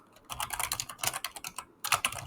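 Quick bursts of typing on a computer keyboard, close-up clicking keys in a rapid uneven patter with a brief pause before a final flurry.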